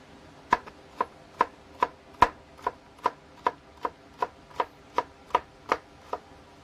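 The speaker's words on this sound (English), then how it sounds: "Chopping up the onion." An onion being chopped on a cutting board for a meatball hoagie gives about fourteen crisp knife strikes in an even, steady rhythm, close and clear with no talking.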